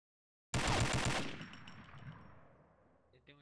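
Automatic gunfire in a video game breaks out of silence as one rapid, loud burst lasting under a second, then a long echoing tail fades away, ending with a couple of faint clicks.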